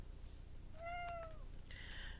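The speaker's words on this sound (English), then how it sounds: "And I guess we're getting a special cameo from Nemo, my cat" A pet cat gives a single clear meow, a rising then falling cry about half a second long, fairly close, with a brief higher chirp after it and faint room noise underneath.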